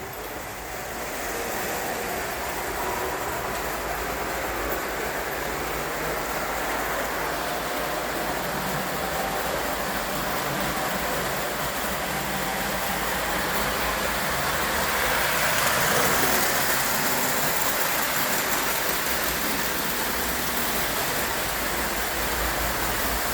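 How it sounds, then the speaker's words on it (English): Locomotive 390 pulls a set of cars along the track, a steady, moderate rolling rumble with soft hiss that holds constant throughout, no voices. "That 390 does a great job pulling this set."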